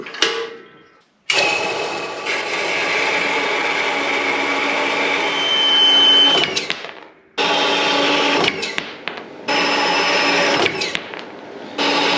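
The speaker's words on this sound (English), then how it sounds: "So we're going to get these over to the saw and get them all cut off." A saw cutting steel bolts to length for a rustic black walnut coat rack, a loud steady grinding whine running for several seconds, stopping briefly, then resuming in a second long cut with small interruptions.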